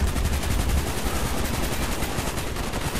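An AK rifle fires in the video game Call of Duty Black Ops, delivering a sustained, loud burst of rapid automatic gunshots that stays dense and unbroken for the full few seconds.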